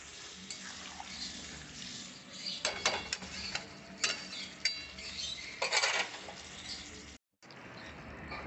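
Chicken curry being moved into a pressure cooker, with light metal clinks and scraping of utensils against pots coming in a few sharp bursts over a low kitchen background.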